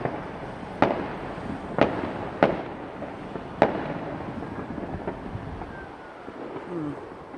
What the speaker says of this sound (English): I think that firework there just came from my son who lives in London